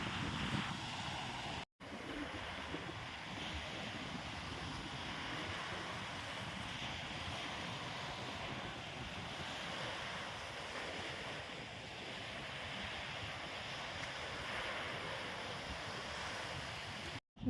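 Strong wind gusting across a beach campsite at Beting Lintang, a steady rushing roar mixed with surf, continuous and fairly faint with no talking.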